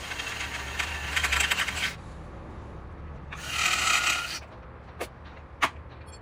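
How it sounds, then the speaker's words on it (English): A drill bores out the rivets holding the fender on a 2014-16 Kawasaki Z1000 motorcycle. It gives two bursts of close, high grinding of about a second each, followed by a few sharp clicks. "I'm gonna drill these rivets out, and then I'll be replacing them to put on the carbon fiber one"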